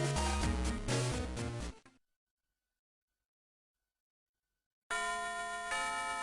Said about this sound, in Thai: โอเคเขาก็นั่งเรียนจนหมดคาบนะ ออดดัง